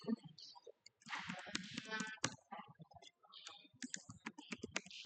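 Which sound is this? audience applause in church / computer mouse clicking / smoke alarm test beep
computer mouse clicking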